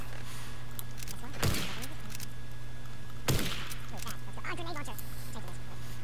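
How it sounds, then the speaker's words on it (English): Two distinct bursts of gunfire in Fortnite, well spaced, standing out over a steady game hum, with faint speech in the background. "There's some shooting over here."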